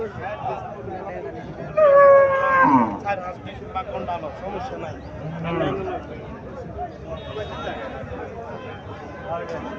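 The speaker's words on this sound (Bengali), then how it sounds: "এখানে আরো একটা গাভী দেখা যাচ্ছে," A Holstein Friesian dairy cow at a farm lets out one loud, drawn-out moo, while people talk nearby throughout.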